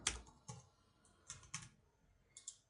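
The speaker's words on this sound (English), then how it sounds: "So type in our password." A computer keyboard is tapped to enter a password, a few quiet separate keystrokes in short clusters with pauses between, close and faint.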